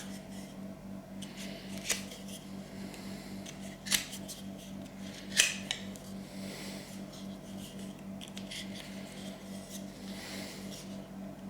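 Scissors snip around material during restoration of an 1865 Forster & Andrews pipe organ, three crisp close cuts spaced a couple of seconds apart over a quiet room hum.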